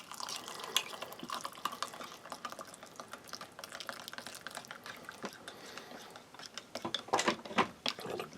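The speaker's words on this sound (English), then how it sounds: "we should just give a very simplistic looking soup mix about half a mug of boiling water" Boiling water is poured into a mug of powdered soup mix from a military combat ration, giving a faint, close trickling and bubbling with small drips and clinks, louder near the end.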